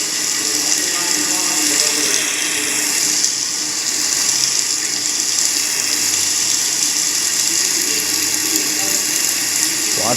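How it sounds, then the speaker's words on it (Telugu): Inside the SLBC tunnel, water keeps seeping in from all around, making a continuous, even rush and trickle that fills the space without pause. "వాటర్ వస్తూనే ఉన్నాయి కంటిన్యూస్గా చుట్టుపక్కల నుంచి"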